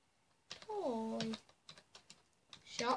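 Scattered keystrokes tap on a computer keyboard, with a voice's drawn-out vocal sound over the early clicks and more keys and voice at the end.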